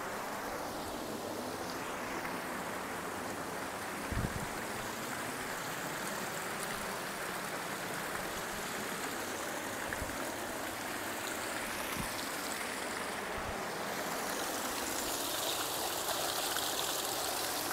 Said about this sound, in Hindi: साफ और स्वस्थ पानी आ रहा है लगभग